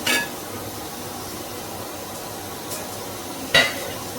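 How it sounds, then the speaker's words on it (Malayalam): Spice powders roasting on low flame in a pan with golden fried onions for a pork dry fry, a soft steady sizzle with occasional light clinks of a spoon against the pan. "ലോ ഫ്ലെയിമിൽ വെച്ചിട്ട് നമുക്കത് നല്ലോണം പൊടി മൂപ്പിച്ചെടുക്കാം"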